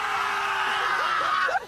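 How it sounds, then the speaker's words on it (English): A crowd at an outdoor Party in the Park concert screams loudly together in one sustained burst for a loudest-scream record attempt, with a few higher whoops rising near the end before it cuts off. "We're going to try and break the record for the biggest scream ever."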